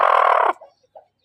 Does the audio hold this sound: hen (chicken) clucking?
yes